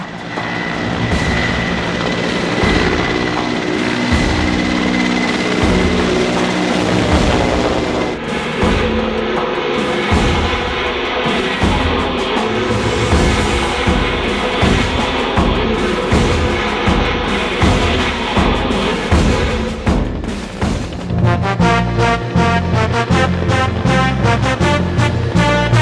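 Loud, continuous rotor and engine roar of a Bangladesh Air Force military helicopter flying close, with a rhythmic thumping that grows choppier toward the end.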